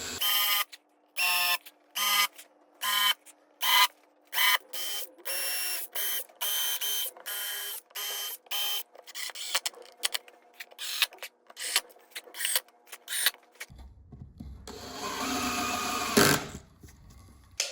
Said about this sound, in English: I'm going to put some countersunk holes with some screws in there just to reinforce the runners.